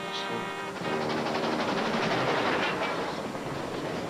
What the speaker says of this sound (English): The Grand Canyon Railway travels 80 miles from Williams, Arizona, to the South Rim on the same track used by the Santa Fe.